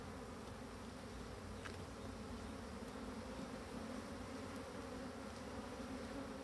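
Black honey bees swarm around an opened Dadant hive in a soft, constant buzzing drone with no voices.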